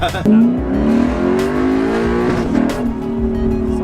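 Lexus RC F exhaust heard from inside the cabin as the car accelerates hard, pitch climbing in a rising pull with a brief dip near the end, loud and close, with voices in the background.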